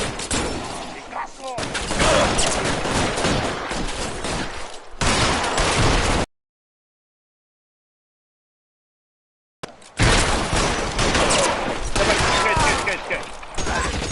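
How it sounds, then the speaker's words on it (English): Rapid bursts of gunfire from a police shootout, loud and dense, rattling on for several seconds, cutting out to silence, then resuming just as heavily. "撃ってきたな。"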